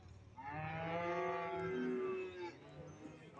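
A good-milking dairy cow at a cattle market gives a single sustained, loud moo lasting about two seconds, rising clearly above faint crowd noise.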